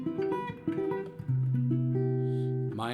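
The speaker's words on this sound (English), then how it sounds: "that's the sound of a major 7." Major 7 chord on a Loar LH 280 guitar, notes sounded one after another and then left ringing together in a sustained, clear chord, close and moderately quiet.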